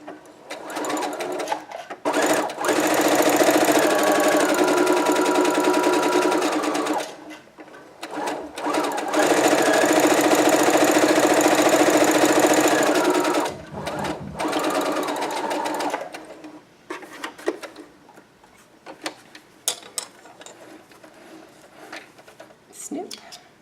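Sewing machine stitching a tight curve in a fabric sample, running in two long steady bursts with brief pauses and small handling noises between, close and loud.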